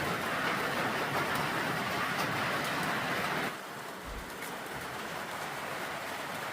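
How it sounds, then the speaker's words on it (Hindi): Constant hiss of rain falling nearby, a little softer in the second half, with no voices. "ठंड भी बहुत ज़्यादा हो गई है, बारिश हो रही है"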